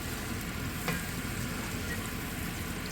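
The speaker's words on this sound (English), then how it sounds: "Now we're going to saute up the mushrooms." Mushrooms and garlic saute in olive oil and butter, producing a dense, even sizzle with a low rumble beneath and one brief sharp spatter early on, no speech.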